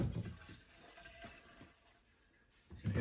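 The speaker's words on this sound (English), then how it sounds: "there's quite a bit of water pouring out there." Water gushing out of an opened plumbing pipe, a steady pour that starts loud, eases to a lower rush and then surges again at the end.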